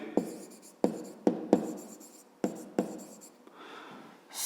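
A pen writes out a fifth-grade maths solution on paper in a quiet room: a series of short scratchy strokes and taps close up, a few per second, with small pauses between them.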